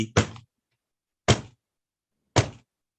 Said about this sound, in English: So the root drum is the drum that is the sound of the universe.